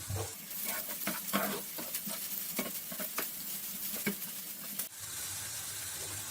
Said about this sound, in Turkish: Soğanlar biraz böyle hafif kavrulunca içine doğradığım biberleri ekliyorum.